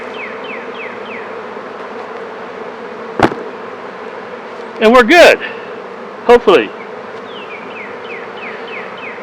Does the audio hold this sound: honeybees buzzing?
yes